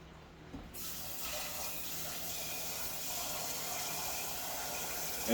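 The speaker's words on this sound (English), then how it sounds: "And then I'll top this off with some water." Water streams steadily into a pot of vegetable stock, oregano, sea salt and garlic for German-style sauerkraut and knockwurst, a soft continuous pour starting after a brief pause and running evenly to the end.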